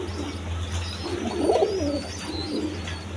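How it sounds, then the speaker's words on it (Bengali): A pair of pigeons on a breeding farm, a Mosoldom male and a Chulli female, coo steadily up close with soft rolling throaty calls. No voices are heard. "দর্শকবৃন্দ দেখেন এখানে এক পেয়ার কবুতর আছে, নটটা তো মূলত মসলদম কবুতর, আর মাদিটা চুল্লি কবুতর।"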